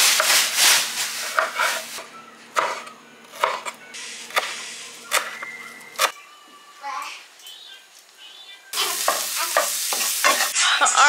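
Pasta is cooked in a home kitchen, with close stirring, scraping and sizzling sounds from a pan, broken by pauses and accompanied by a voice.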